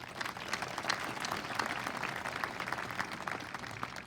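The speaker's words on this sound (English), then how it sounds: "Round of applause for those folks." Audience applause at a 2023 Augusta Prep graduation ceremony: a steady, soft wash of many hands clapping at some distance, holding an even level for about four seconds with no voices over it.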